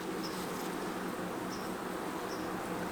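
Honeybees in a loosely clustered winter colony, a steady, close droning hum with no break, faint overall and without voices.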